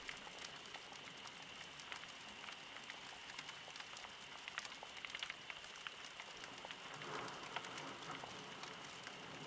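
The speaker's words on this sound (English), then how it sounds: "while still hearing that rain on the windows outside" Rain on the windows of a forest cabin, a faint, steady patter of fine drops tapping glass with a soft continuous hiss, no voices.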